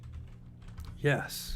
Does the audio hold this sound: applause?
no